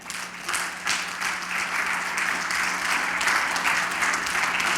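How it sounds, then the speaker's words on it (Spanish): A church congregation claps steadily for the Lord for about five seconds, a dense, close, continuous applause with no talking over it. "Denle un aplauso al Señor"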